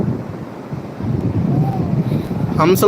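Surf rushing and washing in at Hamsaladeevi beach under gusty wind buffeting the microphone, with a voice rising briefly near the end.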